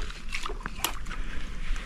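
A person wades into a shallow creek in Goiânia, water sloshing and splashing in short bursts around the legs, close and fairly loud, over a low outdoor background.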